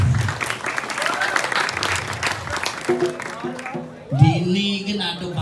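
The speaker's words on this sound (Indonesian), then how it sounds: "tepuk tangan dulu untuk penabuh" Applause for gamelan musicians at a Balinese temple performance, a dense crowd clapping for about four seconds, fading as voices and gamelan tones rise, with talk over it.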